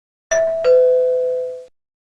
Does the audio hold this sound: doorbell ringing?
yes